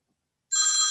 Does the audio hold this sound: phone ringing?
yes